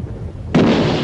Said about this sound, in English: The coastal defences open fire